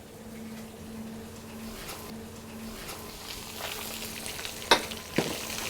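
Blanched greens sizzle in a frying pan with green chili on the way, a steady soft crackle of frying with a couple of sharp clinks near the end, close and moderately quiet.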